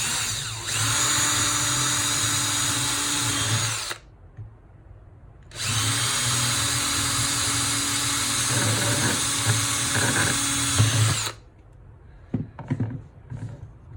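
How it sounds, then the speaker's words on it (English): A power drill whirs loudly in two long bursts, pre-drilling holes for drywall screws, running steadily for a few seconds each, with a short quiet pause between them. "We drill the other 2 holes."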